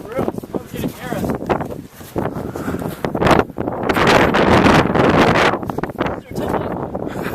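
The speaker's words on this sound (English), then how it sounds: "Oh, that was a strong wind." Strong gusts of wind buffet the microphone outdoors on a windy day, producing loud, rumbling bursts that rise and fall in waves. A voice talks briefly between the gusts.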